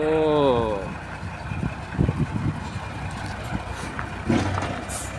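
A concrete mixer truck pulls up to a house building site for a beam pour, its heavy engine rumbling loudly with short hissing bursts like air brakes and a voice talking over it.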